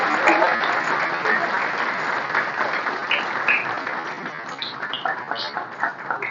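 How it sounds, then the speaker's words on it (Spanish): Audience applause fills a formal reception hall for a visiting artistic delegation, steady and dense clapping throughout with a few voices mixed in. "pido un fuerte aplauso"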